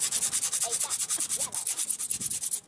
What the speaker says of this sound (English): That's some 36 grit from a belt sander sandpaper.